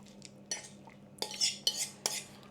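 Metal spoon scraping and clinking in a pan as corned beef hash is stirred with beans, four or five sharp scrapes in quick succession, close and clear with no talk.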